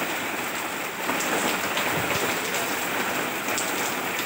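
Heavy morning rain pours down steadily, a loud, continuous hiss of drops hitting surfaces that stays even from start to finish with no voices.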